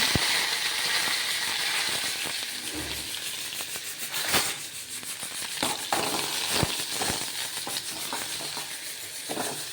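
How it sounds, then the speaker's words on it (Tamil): Ground rasam paste with garlic, coriander and curry leaves sautéed in a pan, a steady sizzle broken by sharp crackles, pops and scraping stirs, close and moderately loud with no talk. "பூண்டு, மல்லி இதெல்லாம் போட்டுட்டு நல்லா வதக்கணும்."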